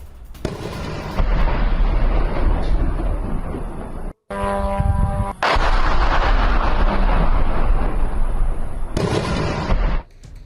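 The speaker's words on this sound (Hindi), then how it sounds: "यूक्रेन के विनाशक हमलों से बड़ा धमाका" Loud, continuous booming blasts and rumbling roar from an attack on Russia's Tuapse port, broken by a brief cut-out midway, with no voices.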